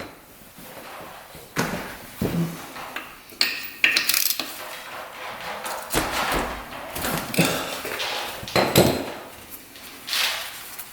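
A ratchet loosening the 17 mm oil drain bolt on a Yamaha Banshee, with scattered metallic clicks, clanks and knocks from close up, irregular and moderately loud, and no talking.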